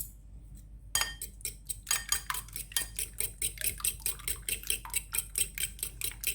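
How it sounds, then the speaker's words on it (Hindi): Eggs with salt are whisked briskly in a bowl, the utensil clicking against the sides in a quick, even rhythm after a brief quiet start, close and fairly soft. "इसको अच्छी तरह से फेंट लें ताकि इसमें जर्दी और ये जो ना बिल्कुल एकदम से मिक्स हो जाए"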